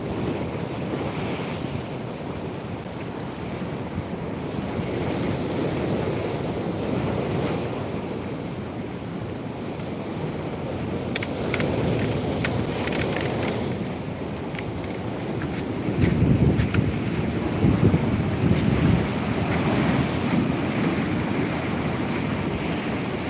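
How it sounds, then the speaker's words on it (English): Rough sea waves surge and crash against the shore in a continuous roar under strong wind buffeting the microphone, with a heavier crash building near the end. "The energy in the sea."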